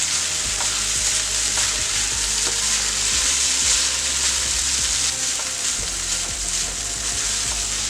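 Vermicelli sautés in a pan with sugar, salt and fresh grated coconut for upma, giving a loud, steady sizzle with frequent scraping and knocking strokes of a spatula against the pan, close and continuous with no voices.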